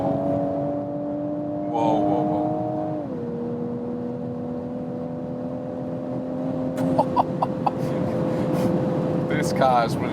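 A Toyota Supra accelerates hard from about 90 km/h on an unrestricted autobahn, its engine tone climbing steadily and then stepping down at a shift, with wind and road roar underneath.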